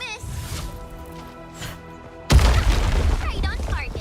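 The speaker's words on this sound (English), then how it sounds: "I give that explosion a 10 out of 10" Explosion in the video game Endfield bursts in loud and sudden partway through, a broad crashing blast after quieter game tones, followed by a rumbling, crackling tail.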